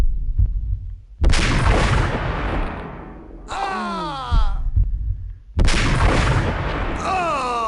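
Gunfire in the Max Payne video game, with two heavy booming shots a few seconds apart, each followed by a long rumbling decay. Odd sweeping tonal effects come between and after them, all loud and close.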